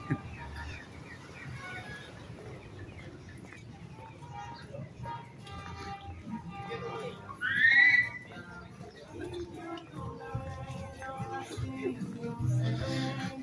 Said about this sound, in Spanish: Va silbando el para que le hagan espacio